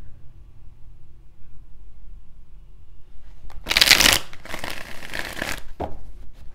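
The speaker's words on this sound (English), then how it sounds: "Last shuffle." Tarot cards being shuffled by hand, a loud riffling burst followed by a second longer shuffle and a brief final snap, heard close up over quiet room hum.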